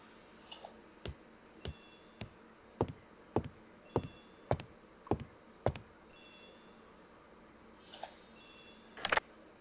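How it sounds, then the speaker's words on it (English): A telephone in a hallway of a detective mystery game rings in short repeated bursts, a bright trilling bell sounding about a dozen times at a steady pace, with no talking. "The telephone in the hall is ringing."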